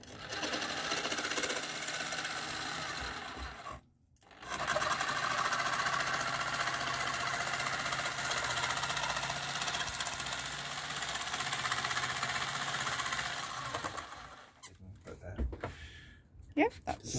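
A jigsaw cuts wood for a minibus sofa build in an Iveco Daily conversion, buzzing loudly and continuously up close with one brief stop, then sputtering out at the end while people talk nearby.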